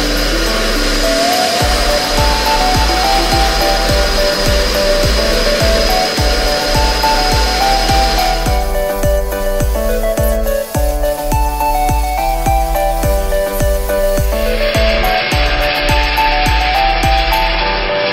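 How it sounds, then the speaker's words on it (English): A rented walk-behind saw cuts a trench during a 200 amp electrical service upgrade, running loud and continuous with a steady engine drone and rough grinding throughout, no voices over it. "So I'm running the big saw."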